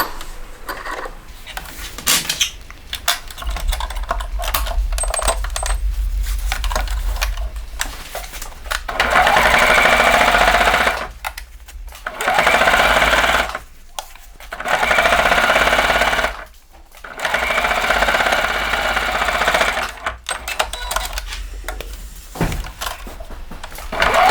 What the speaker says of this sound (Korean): 여기를 한번 예쁘게 상침을 해줍니다